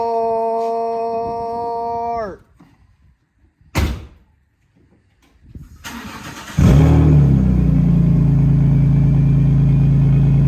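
A BMW E46 fitted with a Megan Racing blast pipe cold starts after a steady whine fades and a short clunk. The engine then catches and settles into a loud, deep, steady idle close by.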